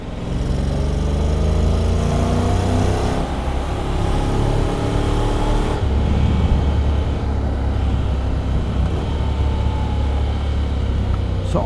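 A 2023 Honda Forza 750 scooter rides downhill in sport mode, its engine droning steadily with rising and falling tones under heavy rushing wind noise throughout.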